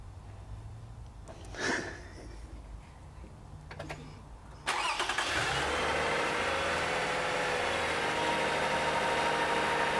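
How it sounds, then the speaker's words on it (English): A vehicle engine cranks and catches, then settles into a steady idle that runs on alone, close and even, after a quieter stretch with a couple of faint clicks. "we're actually gonna start up the vehicle and let it run"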